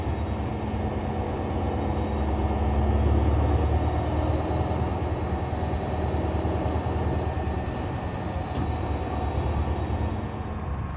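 A GO Transit train idles on the Lakeshore East line, a steady loud rumbling drone with a continuous engine hum that holds level throughout, with faint scattered clicks above it and no speech.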